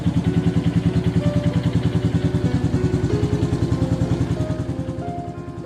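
A red automatic scooter's engine idles with a steady, rapid putter, loud and close at first, then easing off slightly at the end, set at night in the city of Jogja.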